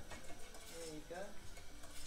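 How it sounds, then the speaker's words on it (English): A wooden spoon stirs caramel in a pan, the scraping and light clatter steady and close for two seconds, with faint cooking sizzle beneath and no talking. "Stirring it with a wooden spoon."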